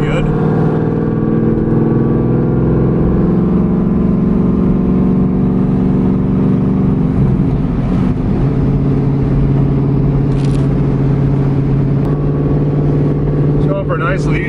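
A Pontiac Trans Am with a new water pump cruises down a highway, its engine holding a steady loud drone with road roar and a brief shift in pitch midway.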